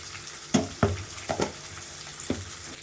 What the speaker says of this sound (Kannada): ಇದು ಎಣ್ಣೆಲೇ ಗರಿ ಬರಬೇಕು, ಫ್ರೈ ಮಾಡ್ತಾ ಇರಬೇಕು.